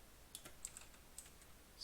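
Keys on a computer keyboard are tapped in a short burst of faint, quick clicks, ending with a slightly firmer keypress, quiet and close.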